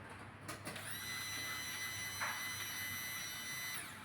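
Electric fuel pump on a Maruti Suzuki Omni MPFI humming once the ignition is switched on: a steady, faint whine that starts after a brief click, holds for about three seconds and then cuts off.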